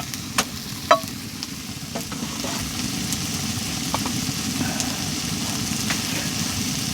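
Mushrooms and onions fry in a pan inside a hot tent, giving a steady sizzle with a constant low rumble underneath and a few sharp clicks near the start.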